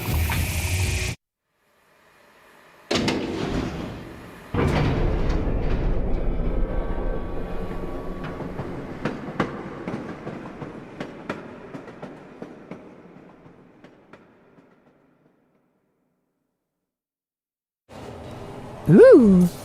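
Train ride in the video game Resident Evil Umbrella Chronicles, a rumbling rail clatter with rhythmic clicks that fades out, broken by silent gaps, with a voice briefly at the end.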